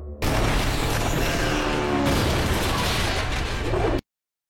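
A massive explosion as a plane crashes into a ship roars in a loud, dense burst lasting several seconds, then cuts abruptly to silence.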